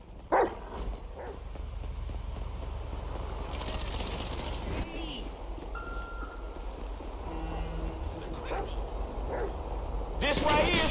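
A dog barks several times in GTA V, short sharp yelps rising over street ambience while people talk over much of it.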